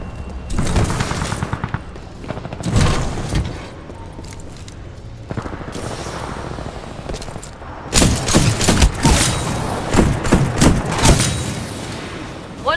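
Rapid bursts of gunfire in the video game Titanfall 2, loud and close, with repeated volleys and booming shots that pause around the middle and then resume in dense clusters, with some speech faintly mixed in.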